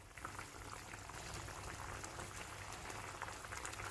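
Lentil ball kuzhambu gravy boils steadily in a wide kadai, a dense continuous bubbling and popping, close and quiet, with no talking.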